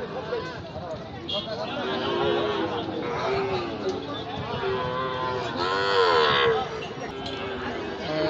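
A Sahiwal bull at a busy cattle market lets out long, wavering moos close by, rising and falling over a steady babble of people talking in the background.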